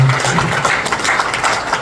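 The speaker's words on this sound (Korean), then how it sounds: "우리 다 같이 감사의 박수를 한번 하도록 하겠습니다." A brief burst of dense, steady clapping from a church gathering crowd, fairly loud and continuous throughout.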